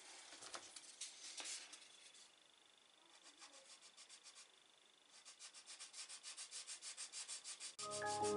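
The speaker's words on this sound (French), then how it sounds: "Commencer un petit peu à poncer ça." Hand sanding on a Polo R WRC 2016 body part: a steady, faint rubbing that settles into quick, regular back-and-forth strokes, growing more rhythmic toward the end.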